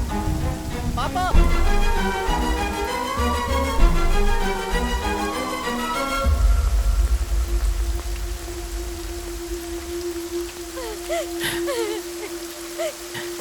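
Rain pouring at night in a Hindi-dubbed action film, a steady broadband hiss that takes over after a stretch of music, with a faint sustained tone and brief voices above it.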